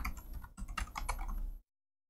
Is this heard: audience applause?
no